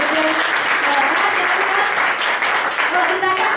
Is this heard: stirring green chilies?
no